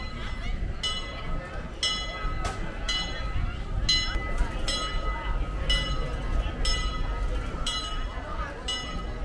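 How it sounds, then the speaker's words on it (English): A Disneyland train rumbles in with steady low mechanical noise and a repeating ringing bell or clanging, while people talk faintly in the background. "the train was arriving when I got there."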